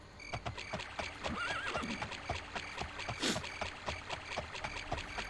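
A horse in an Elder Scrolls video game whinnies once over a quick, steady run of hoofbeats, with a faint watery rush in the background and no voices.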